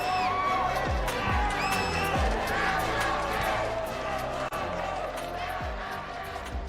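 A packed arena crowd at a Mobile Legends esports grand final roars and cheers continuously, with whoops and shouts rising above the din, loud and sustained under some mixed voices.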